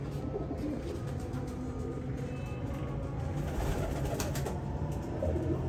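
Pigeons give low, soft cooing, close by and continuous, over a dense background murmur without any talking.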